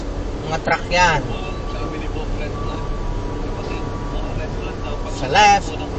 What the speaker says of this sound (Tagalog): Sa right, mga truck yan.